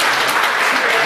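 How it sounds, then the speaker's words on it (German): A party audience at an intercultural celebration in Oldenburg applauds to welcome guests from Côte d'Ivoire, a loud, continuous wash of crowd clapping. "Ein Applaus für Sie."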